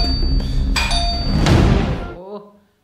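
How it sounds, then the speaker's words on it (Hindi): Ringing bells like a doorbell chime in a home, a few bright ding-dong tones with thuds nearby, fairly loud and close, fading out at the end. "ये घंटियां भी ना मेरी जान लेके छोड़ेंगी। सुबह से चालू हो जाती हैं, टुन टुन टुन।"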